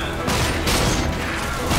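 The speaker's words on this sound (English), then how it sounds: "The shotgun is a type of weapon that when you hit the fire button and point it at someone," Shotgun fire from the video game RAGE, heavy booming blasts layered with high-end crack and low-end kick, several dense shots in quick succession filling the clip loudly with no talk.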